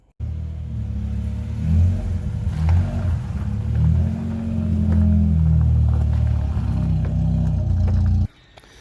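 A Honda car's engine rumbles loud and close as the car is moved out of a shop, holding a steady low drone with a few rises in revs before it cuts off abruptly near the end.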